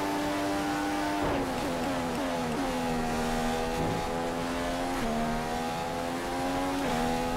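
A Formula 1 car engine in the F1 2015 video game wails at Monza, shrieking loudly and continuously as it climbs through the gears and briefly drops at each shift.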